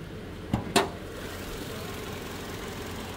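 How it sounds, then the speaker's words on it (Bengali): A 2019 Toyota Land Cruiser Prado TX engine idling, a low, even hum with two sharp clicks close together near the start. "ইঞ্জিনটা একটু চেক করি আমরা।"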